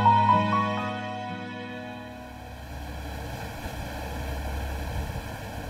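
A boat cutting across the sea toward the small island of Heoyukdo gives a steady, low, quiet rumble with a wash of water and wind, after brief music at the start. No one speaks.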